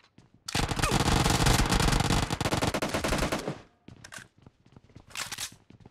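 Sustained automatic gunfire in a shooter video game, a loud rapid stream of shots lasting about three seconds, followed by a short pause, scattered clicks and a brief second burst.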